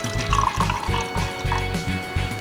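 Cane vinegar pours into a measuring cup in short, gurgling splashes in an uneven rhythm, close and fairly clear, with no talking.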